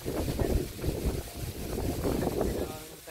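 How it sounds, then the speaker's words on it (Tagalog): Gusty wind from an approaching typhoon buffets the microphone in heavy, rumbling waves at a cucumber harvest, with a voice faintly mixed in beneath the roar. "sobrang hangin May may bagyo na nung padating"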